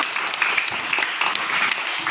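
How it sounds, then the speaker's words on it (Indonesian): A primary school class applauds together, a dense, steady patter of many small hands clapping in a classroom, fairly loud and even for the whole stretch. "Silakan untuk tepuk tangan dulu."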